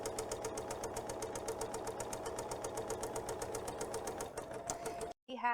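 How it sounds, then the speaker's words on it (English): Close, fast rhythmic clatter of a sewing machine stitching a quilt block seam runs steadily for about five seconds, then stops abruptly before a brief clunk. "And I'm going to sew."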